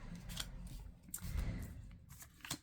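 Scissors snip through card for a Christmas craft, several quiet, close crisp cuts spaced unevenly over a few seconds.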